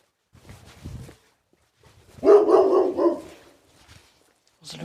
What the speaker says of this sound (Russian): Злющая собака.